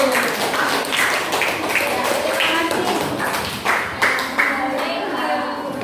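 A classroom group clapping hands, uneven bursts of claps from a small crowd of students, with voices talking over and between the clapping.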